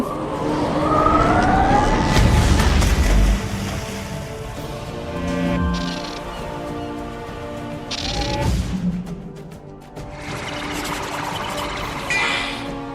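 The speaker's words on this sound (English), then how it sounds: "That's the sirens." The Sirens spell from the game Wizard101 plays as a swelling wash of watery surf and wavering, wailing tones that rise and fall over about thirteen seconds, loud and without talking.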